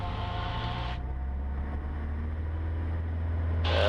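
A Cessna 150 engine runs at full takeoff power, a loud steady drone with a strong low hum, the pitch and volume slowly building as it continues.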